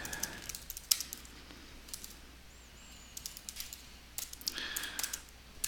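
Quiet, irregular clicks of typing on a computer keyboard while a note is written, with scattered keystrokes and short bursts against a faint background hiss.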